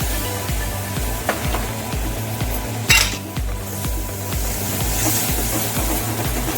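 Ground roasted masala of onion, coconut, ginger, garlic and coriander frying in oil in a pot for mutton rassa, with steady sizzle, repeated clinks of a metal spoon stirring against the vessel and one sharper scrape near the middle.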